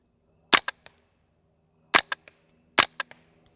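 Suppressed semi-automatic .22 rifle firing CCI subsonic rounds while plinking outdoors, giving three soft, sharp cracks spaced about a second and a half apart, each trailed by faint mechanical clicks and quick echoes.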